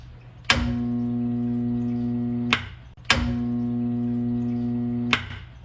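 A jammed garbage disposal hums when switched on, making a loud, steady electrical drone that starts with a click, holds about two seconds, stops, then repeats once.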